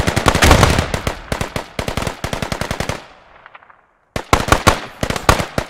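Players trade fire in a shooter video game: loud, close bursts of rapid automatic gunfire in quick rattling strings, a brief pause with a fading echo, then another sharp burst of rapid shots.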